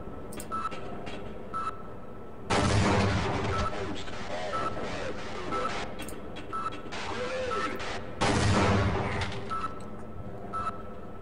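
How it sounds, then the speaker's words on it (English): Grenade blasts and gunfire in the video game Half-Life, with two loud broadband bursts rising over a busy bed of game sound and scattered short pops, and a voice talking over parts of it. "Can I just, like... grenade these guys?"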